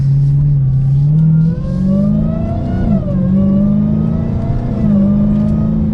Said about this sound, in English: last mini acceleration for today's video